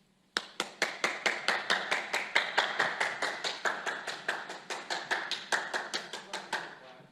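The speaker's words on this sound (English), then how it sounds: "Let me get a round of applause for him." A press conference crowd after an NFL game against the Cardinals applauds steadily, with even, rapid claps close by that keep going for several seconds without any talk over them.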